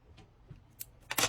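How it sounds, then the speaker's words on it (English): Scissors trim small thread ends off a sewn piece: a couple of faint snips, then a sharper, louder cut at the end. "I'm going to trim off these little bits"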